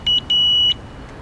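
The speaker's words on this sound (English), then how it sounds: "You also have a horn buzzer button right here." The horn buzzer of a Pride Go-Go Elite Traveler mobility scooter sounds two short electronic beeps, a quick chirp followed by a longer steady tone, close and clear in a quiet room.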